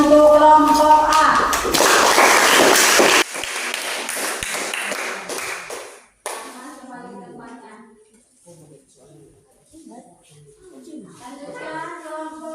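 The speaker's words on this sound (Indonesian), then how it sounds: "coba tepuk tangan untuk kelompok A" A short burst of classroom applause for a student group rings out loudly for a couple of seconds, then gives way to children's voices and a teacher talking.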